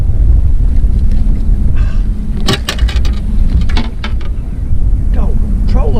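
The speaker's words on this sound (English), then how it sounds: "This doggone wind's changed directions is what's happening." Wind buffets the microphone on a fishing boat out on a lake, a steady low roar with water sounds, while people talk over it in bursts.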